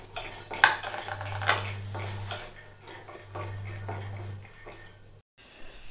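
Peanuts frying and being stirred in a pan, with metallic scrapes and clinks of a utensil against the pan over a steady low hum, a few sharper knocks standing out, then a brief cutoff.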